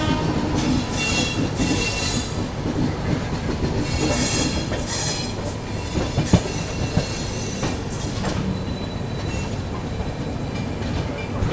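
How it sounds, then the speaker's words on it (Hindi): The Jhelum Express from Jammu Tawi to Pune rolls into an Indian station with continuous rumbling, wheel squeals and clickety-clack over rail joints, loud and close throughout. "झेलम एक्सप्रेस का अराइवल हो रहा है"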